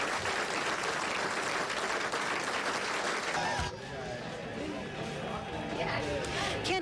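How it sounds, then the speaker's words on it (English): A crowd at a political campaign event applauds in a steady, dense burst, which drops off sharply about halfway through, leaving murmuring voices and scattered sounds. "So how about a quick round of applause for yourself?"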